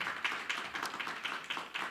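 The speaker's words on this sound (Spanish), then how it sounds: "Iglesia, dele un segundo aplauso para nosotros" A church congregation claps together in a brief round of applause, a steady patter of many hands at moderate distance with no voices on top.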